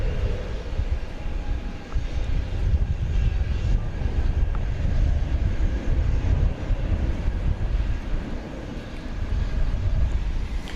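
An American Airlines jet in bare-metal retro livery departs DFW Airport at night for Colorado Springs, a steady broadband engine roar filling the whole stretch at moderate distance with no voices.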